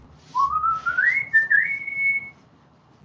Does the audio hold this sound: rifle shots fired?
no